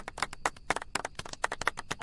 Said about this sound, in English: let's give Matt a clap.